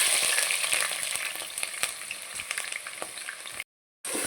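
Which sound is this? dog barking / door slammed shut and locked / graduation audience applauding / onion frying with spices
onion frying with spices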